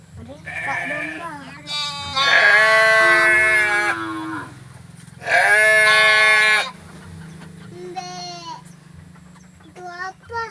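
Sheep on a livestock farm bleat in several long, loud, wavering calls close by, with quieter shorter bleats in between, all over a low background hum.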